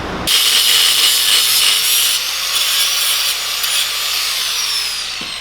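A power cutting tool slices through metal axle spacers on a go-kart axle, throwing sparks; a loud, steady grinding whine runs unbroken for about five seconds, close by with no talk.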